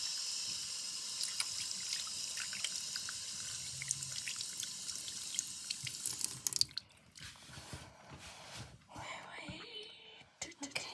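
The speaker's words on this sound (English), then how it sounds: "now that I've washed my hands" Hands being washed at a sink under a running tap, a steady rush of water flowing for about six seconds before it stops, followed by quieter wet rubbing and drips in a close, soft setting.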